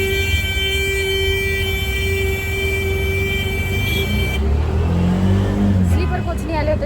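An auto rickshaw rides through busy Mumbai traffic near Ghatkopar, with a steady, loud engine drone and road noise, occasional horn-like tones, and a voice talking over it.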